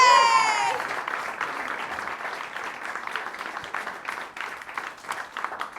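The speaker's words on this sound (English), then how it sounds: "Extend that applause." Applause at a live music viewing-party broadcast as a violinist returns to the stage; a brief bright tone opens, then steady, moderately loud clapping continues throughout with some scattered cheers.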